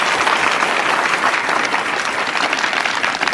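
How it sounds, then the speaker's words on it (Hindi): Loud, steady audience applause in a game show studio, a dense wash of clapping hands continuing unbroken throughout. "एक बार जोरदार तालियां हिमांशु के लिए भाई।"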